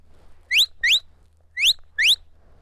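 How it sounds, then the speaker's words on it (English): A loud, forceful sheepdog command whistle blown by a person, four sharp rising blasts in two pairs, close and clear with no talking. "more power, more breath behind that in order to make that whistle"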